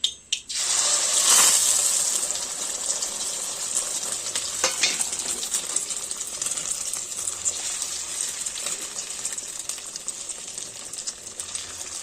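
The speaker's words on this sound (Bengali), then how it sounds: "কড়াইতে তেল দিয়ে দিয়েছি, এইবার হচ্ছে ডিমটা দিয়ে দিব।" An egg dropped into hot oil in a wok sets off a sudden burst of loud sizzling that settles into a steady crackling fry with small pops and spatters throughout, close and without talk.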